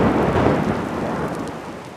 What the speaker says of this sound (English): That is, until it rains.